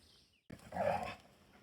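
Two dogs play-fighting on a forest outing, a short burst of growls and snarls rising from near silence, close and fairly loud for about a second before easing off.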